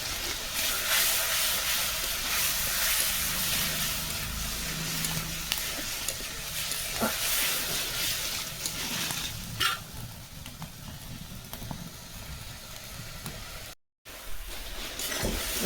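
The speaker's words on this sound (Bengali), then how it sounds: "এই যে ভাজা হয়ে গেছে" Vegetables sizzle steadily in hot oil with chili powder, turmeric and a little salt, while a utensil stirs and scrapes through them; a continuous, fairly close frying hiss with no talking.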